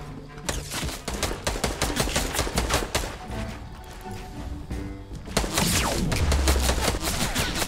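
Rapid, continuous minigun fire from the Fortnite video game, a dense stream of shots that pauses briefly in the middle and then resumes louder, with heavy low thumps toward the end.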